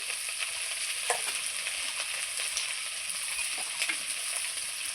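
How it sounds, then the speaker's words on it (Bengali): Okra stirred and fried in oil gives a steady, close sizzle with occasional soft spatula scrapes, even and unbroken throughout, no voices. "তেল দিয়ে ঢেঁড়সটা কিছুক্ষণ আমি নাড়চাড় করে নিলাম।"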